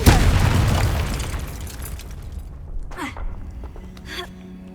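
A Confringo blasting spell explodes in Hogwarts Legacy, a loud booming burst that decays into a rumbling tail, followed by a couple of softer whooshing sounds.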